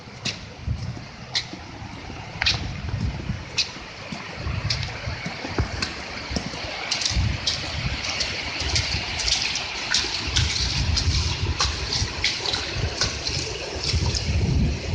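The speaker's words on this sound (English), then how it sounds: "Water's still flowing really good." Flood water flowing over a full pond in northeast Columbia, South Carolina, with docks afloat and a gazebo engulfed, a loud steady rushing and gushing with sharp splashes and trickles throughout, no talking.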